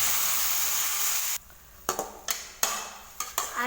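Bitter gourd fries in a pan with tomato paste for a kuzhambu, giving a steady loud sizzle that cuts off suddenly, followed by several sharp clinks and scrapes of a spoon stirring against the pan.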